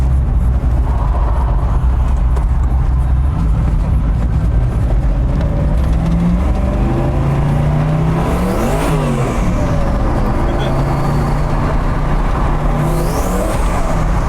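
A Mosler MT900S with a 750 hp twin-turbo LS7 V8 and a carbon body accelerates hard, its engine roaring loud and continuous with rising rev sweeps through the gears, heard from close by without talk.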